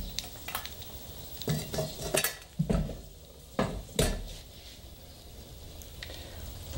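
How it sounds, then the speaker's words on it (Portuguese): A cooking pot is set on a stove while making a creamy corn drink, with a series of sharp metallic clanks and knocks up close amid light kitchen clatter, no speech. "E agora eu vou levar uma panela no fogo."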